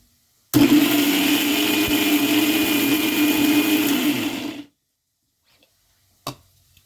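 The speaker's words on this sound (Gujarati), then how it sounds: "એને આપણે બ્લેન્ડ કરી દઈશું." Electric blender whirring loudly and steadily for about four seconds while blending ingredients for panini bread dough, then cutting off abruptly, followed by a short clunk.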